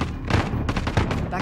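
Gunfire in Call of Duty: Modern Warfare, a few dense bursts of shots at about a third of a second and again near one second, over steady game noise and voices.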